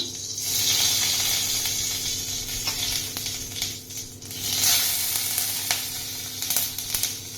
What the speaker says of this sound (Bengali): তেলটা গরম হয়ে গেলে এবার সর্ষে ফোড়ন দিলাম